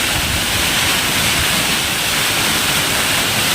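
Fast monsoon water pours down the hillside near Bhushi Dam, a dense, loud, steady roar like a close waterfall, filling the whole short stretch without pause.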